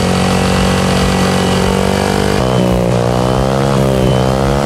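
Motorcycle engine fitted with a Carbon 370 exhaust, loud and close, holding a steady rough idle and then shifting into rising and falling revs with no talk.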